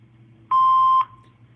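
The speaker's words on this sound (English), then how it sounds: "Please leave your name and phone number after the beep." A single answering machine beep sounds alone: one steady, clean electronic tone lasting about half a second over a faint background hum.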